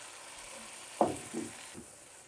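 Keema mutton karahi frying in a pot: a steady soft sizzle with a couple of brief stirring scrapes in the middle, close and fairly quiet, no voices.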